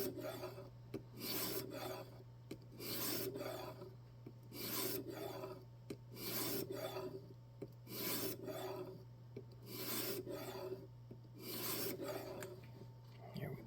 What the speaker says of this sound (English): This is where you actually start polishing the blade down a little bit.